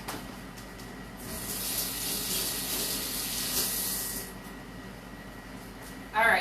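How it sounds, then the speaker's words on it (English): Hands are rinsed under a running kitchen tap, a bright hiss of flowing water lasting about three seconds before stopping, with a brief thump at the end. "Just rinse my hands off real quick."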